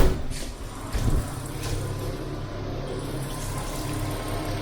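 Water running during a radiator flush, a steady close hiss and gush of flowing water with a brief louder surge early on, then continuing evenly.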